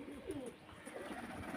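Pigeons in Karachi, Pakistan, some flying overhead and some perched below, give soft low cooing calls that run steadily through the moment at a moderate distance.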